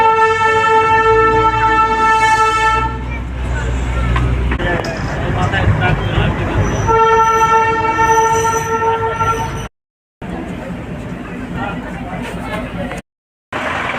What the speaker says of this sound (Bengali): টয় ট্রেনে চেপে পৌঁছে গেলাম ঘুম স্টেশন।